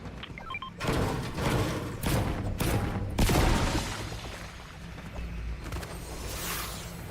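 Several heavy game-weapon blasts and thumps from a shotgun-heavy shooter burst out loudly in a cluster, with booming low impacts and whooshing tails and no speech.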